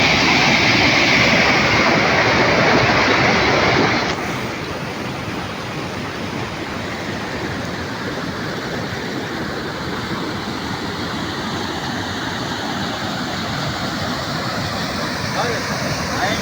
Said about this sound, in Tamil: இங்கே பாருங்கள், பயங்கரமாக தண்ணி போயிட்டுருக்கு